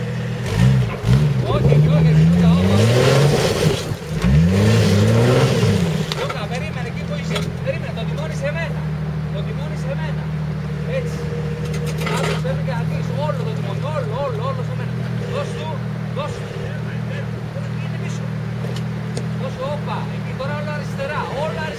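A 4000cc Jeep Cherokee WJ engine drones and revs off-road, with loud rising revs early on settling into a steady low rumble, while people shout directions over it.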